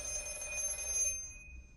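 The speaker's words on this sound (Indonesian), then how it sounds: "telepon kembali berbunyi" A telephone rings in a film scene, giving a faint, steady electronic trill that holds for about a second, then cuts off into quiet.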